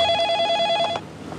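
A telephone rings with a steady electronic trill of bright repeating tones, loud and close, stopping abruptly just before the clip ends as the line is picked up.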